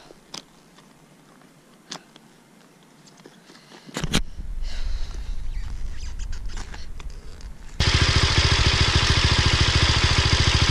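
Motorcycle engine settling into a steady, loud idle for the final few seconds, preceded by quieter clicks, handling noises and a rising rumble.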